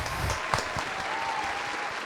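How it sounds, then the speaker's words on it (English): A small studio audience gives light, brief applause, a thin patter of claps at moderate distance with a faint voice underneath. "Slight clap."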